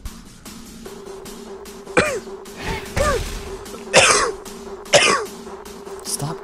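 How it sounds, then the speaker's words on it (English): A person close to the microphone coughs and clears their throat repeatedly in several harsh bursts over a low steady hum, during a League of Legends gaming session. "Stop coughing"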